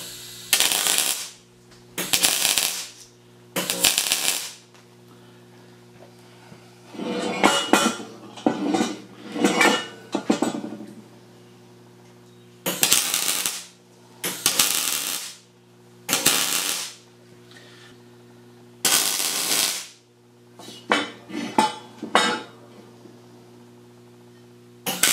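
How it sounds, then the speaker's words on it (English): A MIG welder lays a series of roughly ten short tack welds on a stake pocket winch mount. Each crackling, sputtering burst lasts one to two seconds and is separated by brief pauses, loud and close. "Go ahead and tack this bottom end."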